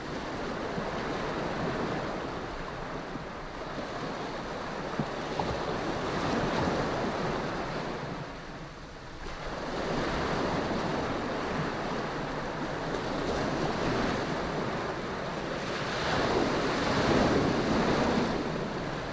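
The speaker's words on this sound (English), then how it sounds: "Waves break gently around your arms and legs." Gentle waves breaking on a tropical sandy beach, a steady wash of surf that swells and eases in slow cycles, with some wind noise and no voices.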